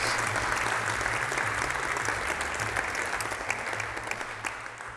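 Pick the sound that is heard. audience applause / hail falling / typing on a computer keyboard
audience applause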